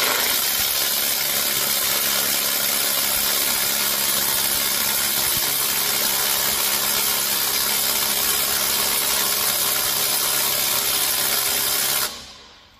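A Ryobi cordless impact gun powered by an EDGE battery, working on a car wheel nut, runs with a loud, continuous, steady buzzing hammer for about twelve seconds before cutting out abruptly.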